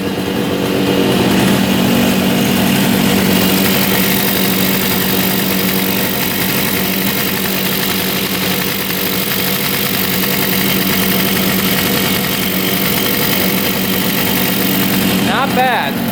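A cheap $200 motorcycle's engine idles steadily and loud close by for about sixteen seconds, with a brief rev or blip near the end and a voice speaking over it.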